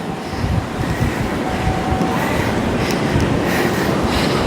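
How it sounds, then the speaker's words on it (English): Strong, steady wind roars across the open deck 10 of the Disney Wonder cruise ship, a loud continuous rumble with no pauses and no voices. "It's awfully cold and windy."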